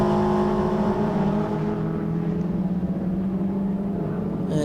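A Toyota MR2 race car engine, heard from onboard at Snetterton during a 2015 Miller Oils Toyota MR2 Championship race, drones loud and steady close up, holding a constant high-revving tone with no speech.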